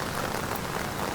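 Steady morning rain falls in Surat, a soft, even hiss of drops on surfaces, faint and continuous with no voices.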